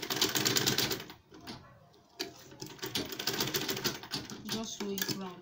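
A sewing machine stitches a double-compartment purse bag in rapid mechanical bursts, briefly pausing midway before running again, with a voice talking over it.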